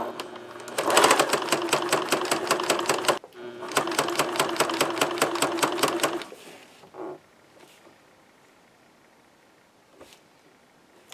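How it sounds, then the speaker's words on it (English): A sewing machine stitches in two rapid, rhythmic bursts of even, clattering needle strokes, close and loud, then falls quiet apart from faint handling noise. "So now we're going to hold our threads and we're going to push down on the presser foot."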